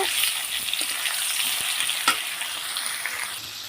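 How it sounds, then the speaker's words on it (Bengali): Potatoes frying in hot oil for a cauliflower-potato toast dish give off a steady, close, crackling sizzle, with an occasional soft stir or clink and no voices. "তেলের মধ্যে আলুগুলো দিয়ে দিলাম দিয়ে ভালো করে একটু লাল লাল করে ভেজে দেব"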